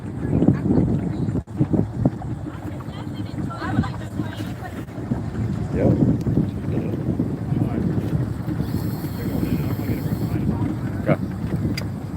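A boat engine idling roughly, with persistent idle trouble, gives a steady low rumble close by, overlaid with constant wind buffeting on the microphone throughout.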